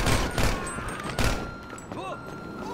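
Gunfire in the video game GTA, a few sharp loud bursts close together near the start and middle, then quieter game sounds, with some voice activity mixed in.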